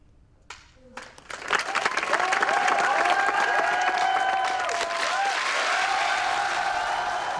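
An audience in a screening hall applauds, with dense sustained clapping building quickly after a few faint taps, while voices sing and call out over it.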